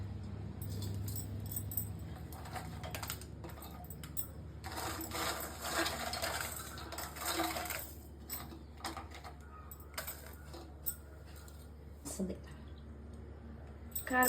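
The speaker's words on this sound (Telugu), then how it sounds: "ఈ వాటర్ని కూడా కొంచెం వేసేసుకొని మిక్సీ పట్టాలి." A kitchen mixer grinder whirs through dried red chillies with a splash of water for Andhra-style karapodi, running in loud, uneven bursts with short pauses and rattling between them.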